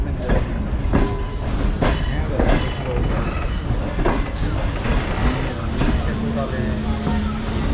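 The Sir Syed Express passenger train runs along the track with loud, rhythmic clickety-clack of the wheels over rail joints and a continuous rumble of the carriages, heard from on board with voices talking underneath.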